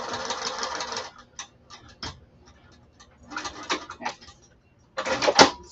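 A sewing machine stitches along the short edge of fabric for a bag gusset in bursts: a long whirring run, short taps and pauses, then another run and a final burst, close and fairly quiet with no talk.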